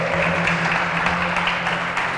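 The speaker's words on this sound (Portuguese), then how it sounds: "Dá um aplauso a Ele" A church congregation applauds during a sermon, a steady, moderately loud wash of clapping over a low sustained hum, with no voice standing out.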